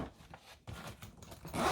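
Zipper on a Misty craft bag being pulled open in a couple of quick rasping strokes, close and moderately loud, brief and with no talking.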